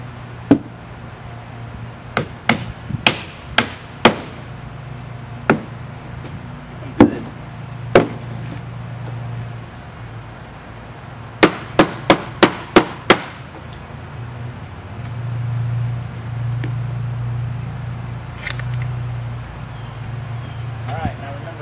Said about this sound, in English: Around here we got to nail it off every 6 inches.